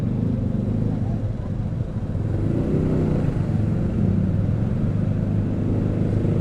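Manual clutch motorcycle riding at steady speed, a continuous low engine rumble and drone with little change in pitch, close and fairly loud; individual gear shifts are not clearly distinct.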